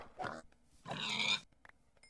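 A buffalo from the Mo' Creatures mod in the Minecraft video game gives two short, soft grunts, the second longer, with a faint trailing sound and no talk.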